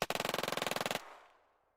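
A rapid machine gun burst in the strategy game Shadow Empire, about twenty evenly spaced loud shots over one second, then a decaying echo tail fading out.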